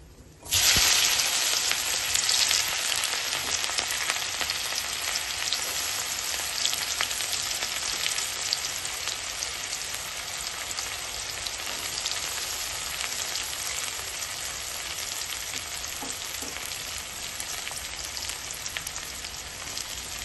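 Chopped onions fry in a pan with blackened chilies, a loud, continuous close sizzle that holds steady throughout with faint scraping as they are stirred.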